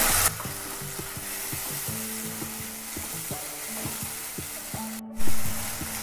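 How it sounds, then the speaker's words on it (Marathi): Spice masala frying in oil for a Kolhapuri tambda pandhra rassa, a steady close sizzle with rhythmic spoon clinks against the pan running throughout. "आता आपण याच्यामध्ये मसाला घालू आणि मसाला तेलामध्ये परतून घेऊ."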